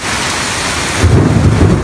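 A violent thunderstorm with heavy rain pours steadily, and a low rumble of thunder swells in partway through and continues under the rain.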